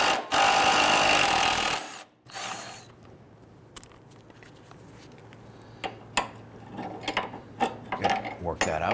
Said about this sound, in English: Using an 18mm socket, go ahead and loosen and remove the sway bar end link nut.